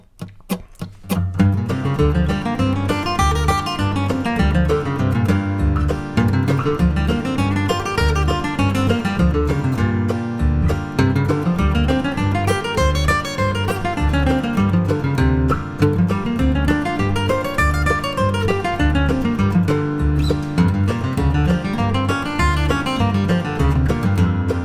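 Bluegrass-style guitar running minor blues scale patterns over a strum machine backing track, the steady strummed chords and walking bass filling the whole passage at even loudness, with no talking.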